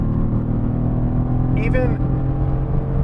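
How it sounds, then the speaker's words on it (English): Engine of a 2018 Mercedes-AMG GT C grand tourer droning steadily at a low, rumbling pitch with exhaust note, close and continuous, while someone speaks briefly over it. "All the sound system that you need is coming from under the hood and that exhaust back"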